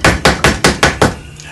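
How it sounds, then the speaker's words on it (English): A chisel driven by a mallet splits walnut wood during carving with six sharp, evenly spaced knocks in quick succession, close and loud, then stops. "I just split straight off in that direction"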